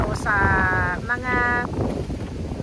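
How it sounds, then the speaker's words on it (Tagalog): Strong wind buffets the microphone with a rough low rumble throughout, while a brief voiced tonal sound rises over it. "napakalakas ng hangin"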